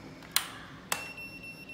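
Two short electronic beeps from a toggle box escape-room prop as its metal button is pressed to save a password, spaced about half a second apart, fairly faint against a quiet room.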